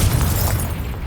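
The Confringo explosion spell in Hogwarts Legacy lands as a loud, deep boom with crackling debris that rumbles for about a second.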